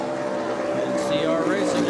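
The Super Cat racing powerboat Dirty Money roars by at the Truman Waterfront Cup, a steady high engine drone with a rising and falling whine, under continuous race commentary.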